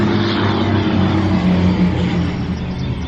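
A car driving past on a town road, a loud steady engine drone that swells and fades with no voices.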